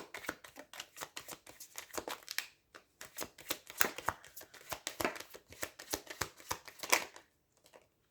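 Tarot cards shuffled by hand in quick repeated riffling bursts, crisp snappy flicks up close with short pauses between runs, faint and alone with no talking.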